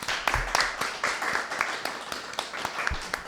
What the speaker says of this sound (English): Can we have a round of applause for Pono Potions?